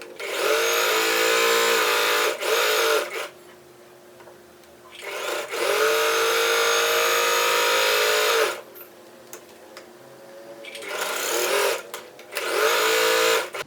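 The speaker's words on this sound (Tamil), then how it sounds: "இப்போ இந்த ரெண்டு சைட்லேயும் நம்ம தையல் போட்டோம்னா நமக்கு ஒரு குட்டி ஹேண்டில் ரெடி ஆயிரும்." A sewing machine stitches both sides of a small tote bag handle in several loud, whirring runs of varying length, separated by quiet pauses.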